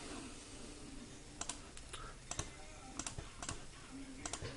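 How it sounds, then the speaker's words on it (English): Numbers are tapped out on a calculator keypad: quiet, sharp plastic key clicks come in small irregular clusters of two or three presses against a faint room hiss. "And then we just type it in the calculator."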